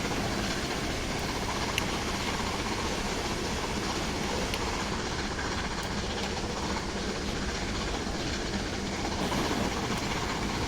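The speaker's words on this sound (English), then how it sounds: "Here it is. Union Pacific 844. As being viewed from the cab of Flying Scotsman." Union Pacific 844 steam locomotive running alongside Flying Scotsman, heard from Flying Scotsman's cab as a loud, continuous rail roar with rhythmic clickety-clack and engine rumble, no talking.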